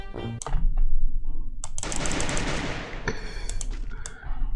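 Gunshots in rapid bursts, sharp loud cracks repeating like automatic fire with a dense rattling stretch in the middle, close and dominant with no talk over them.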